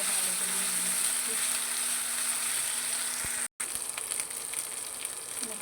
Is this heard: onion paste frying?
yes